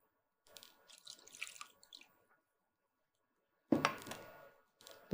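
Water-rinsed ground paste is poured from a mixer jar into a cooking pan, giving intermittent splashing and gurgling pours, a longer stream first, then a louder splash after a pause and a final short slosh.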